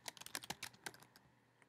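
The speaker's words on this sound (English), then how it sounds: "go ahead and type your name" Quick typing on a computer keyboard, a brief close burst of light key clicks that slows and fades out after about a second.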